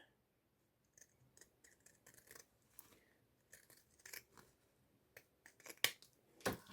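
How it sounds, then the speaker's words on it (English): Pinking shears trim the seam allowance of sewn fabric shoulder straps cut from a 1980s Sandersons curtain remnant, giving a run of quiet, scattered close-up snips and crunches with pauses between them, growing a little louder toward the end. "use the pinking shears just to trim them down"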